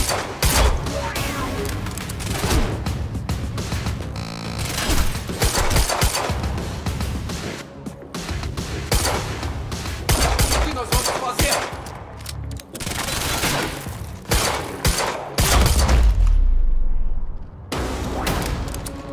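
Heavy gunfire from the Quantum Break video game on Xbox Series X: sustained bursts of shots and automatic fire with booming impacts and clattering mechanisms, loud and dense across the scene, broken by brief lulls, with shouted voices mixed in.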